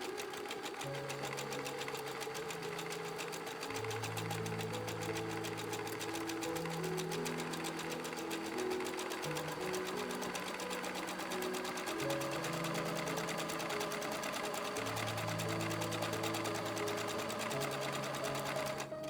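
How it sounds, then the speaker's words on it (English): A sewing machine overcasts fabric edges with a zigzag stitch, humming steadily and close throughout with a rapid, even needle rhythm and shifting motor tones, no voices over it. "I overcast the edges with a simple zigzag stitch."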